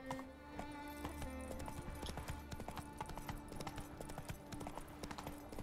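Horse hooves clip-clop in a steady, quick rhythm in The Witcher 3, close and clear over quiet game ambience.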